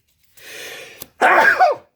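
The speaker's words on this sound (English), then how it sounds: "I got a sneeze coming too." A single close sneeze: a breathy inhale builds, a brief catch, then a loud explosive burst that trails off.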